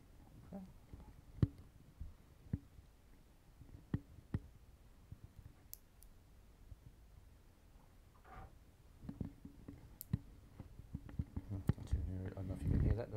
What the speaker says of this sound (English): that's the sound of possums going into my roof